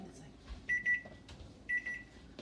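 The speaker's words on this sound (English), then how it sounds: "our timer is done" A kitchen timer beeps while banana muffins bake, giving two short bursts of high, steady tones about a second apart over low background noise.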